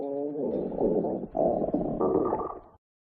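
A hungry stomach growls late on a rainy night, one long low gurgling rumble lasting a few seconds, close and alone before it cuts off.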